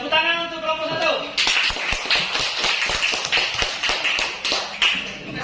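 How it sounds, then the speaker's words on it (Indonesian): A classroom of students claps for the first group presenting in a maths lesson. A burst of quick, fairly rhythmic hand claps follows a spoken line, with voices mixed in. "Tepuk tangan untuk kelompok 1"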